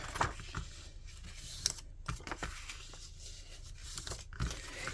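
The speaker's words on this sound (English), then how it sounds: "You literally are going to fold on your crease lines, your score lines" Paper being folded down along its score lines for a handmade gift box, with soft crinkling, creasing and brief crisp tearing-like rustles in short bursts, close and fairly quiet, no talking.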